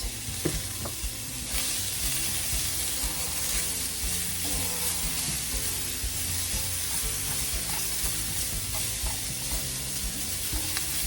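Vegetables sizzle steadily in a hot pan while being cooked for a keto Philly cheesesteak casserole, a continuous close frying hiss with occasional stirring clatter, no talking.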